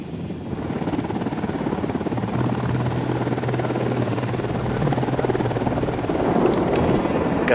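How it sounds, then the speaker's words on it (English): Helicopter flying overhead in the video game Ghost Recon Wildlands, a loud sustained rotor drone and engine buzz under brief game noises, with a low hum rising mid-way. "Got a chopper."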